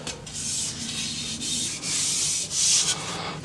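Rhythmic hand sanding on a wooden guitar neck with a radius beam, a raspy scraping stroke repeated back and forth in steady passes, close and fairly quiet.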